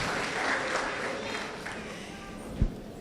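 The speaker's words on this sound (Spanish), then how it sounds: "regalémosles un aplauso a quienes sí la levantaron" An audience at a morning talk on family support groups breaks into applause, a dense, sustained patter of many hands clapping at moderate distance that slowly tapers off.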